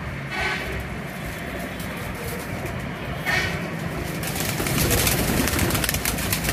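Golden breeder pigeons cooing in a loft amid steady broadband noise, soft coos under a constant rushing background, no voices.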